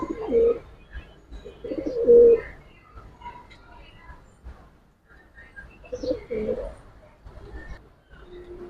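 Giribaz pigeons giving soft, low coos in short bursts at close range, with quiet pauses between them.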